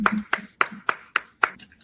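Six sharp hand claps ring out at a steady, fairly quick rhythm, close and loud, with faint talk and room noise between them.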